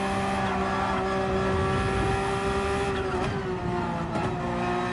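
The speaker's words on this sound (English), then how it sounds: "They make the Porsche seem like it's slow and can't respond to your steering." Engine note of a Porsche race car in the Gran Turismo 7 sim racing game, a steady loud droning whine holding pitch with slight dips, continuous throughout with faint tire noise.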